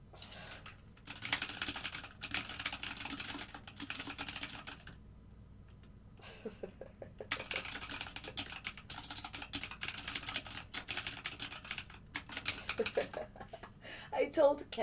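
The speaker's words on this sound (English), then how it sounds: "Yeah, I type 80 words per minute." Fast, steady typing on a computer keyboard comes in long bursts of rapid clicks with brief pauses, at moderate distance.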